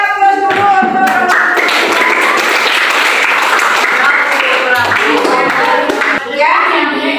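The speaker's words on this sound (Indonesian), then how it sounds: "Oke, kita beri aplaus dulu untuk" Sustained applause from a classroom of children during a science lesson, dense steady clapping filling the whole stretch with faint young voices mixed in.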